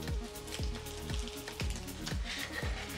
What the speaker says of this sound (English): we're going to add the egg that's already been fried